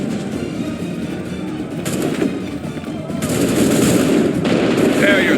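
Musket volleys crack out in an Assassin's Creed 3 video game battle, dense rolling gunfire building in intensity, with shouted commands heard over the shooting.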